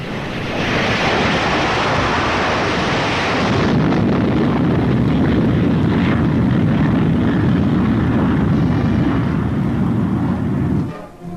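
A B-47 Stratojet jet bomber flies past with a loud, steady roar and rushing wind noise that holds throughout before cutting off at the end.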